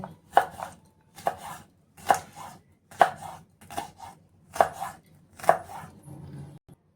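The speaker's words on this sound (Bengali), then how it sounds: "কাঁচা লঙ্কা নিয়েছি। তো এগুলো কুচি করে নেব।" Green chillies being chopped with a knife on a board, seven crisp, evenly spaced thuds about one per second, close and clear against near silence, with no talking.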